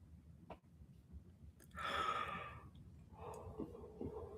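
A single person's yawn, a drawn-out breathy exhale rising in the middle and trailing off, followed by a softer second breath, close and quiet with no talk.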